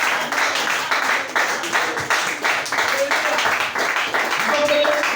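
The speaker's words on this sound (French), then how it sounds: "Acclamons très fort, William." A congregation at a church gathering bursts into steady, dense applause that holds throughout, loud and enthusiastic, with voices calling out faintly beneath the clapping.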